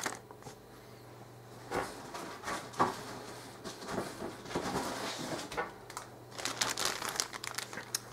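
Small plastic bags of parts from a Mechanicore ZMS-2 Ziegler model kit crinkle and rustle close by during unboxing, with uneven bursts of handling that grow busier toward the end.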